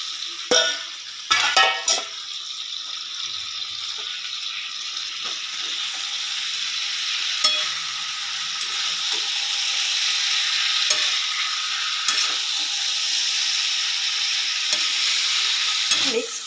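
Spice masala with fried vegetables sizzling steadily in oil, with a few sharp clatters of stirring near the start, then a continuous bright hiss, close and with no voices.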